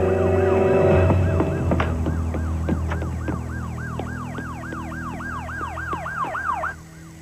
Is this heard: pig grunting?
no